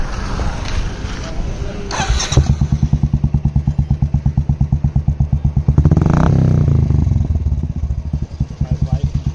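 A Royal Enfield Classic 350 motorcycle fitted with a chrome body kit starts up close by after a brief cranking clatter, then settles into a loud, steady, thumping single-cylinder idle.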